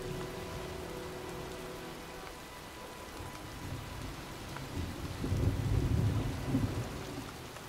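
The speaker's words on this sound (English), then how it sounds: "Well, looks like a storm's coming." Thunderstorm in the video game Heavy Rain: steady rain hiss throughout, with a deep rolling thunder rumble swelling in the last few seconds.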